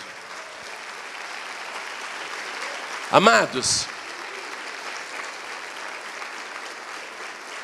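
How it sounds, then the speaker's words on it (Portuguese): A church congregation applauds in a steady, continuous wash of clapping, with a brief louder burst of a voice speaking partway through. "vamos aplaudir muito mais ao nome do Senhor"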